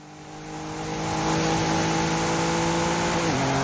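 Race car engine in a racing video game, wet track, revving loud and steady with a rising pitch, the gear note shifting near the end, no talk over it.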